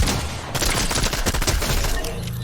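A Sharptooth pump shotgun followed by a Scoped SMG firing in Fortnite: loud, dense rapid gunfire that keeps up without a break, close and harsh, with no talking.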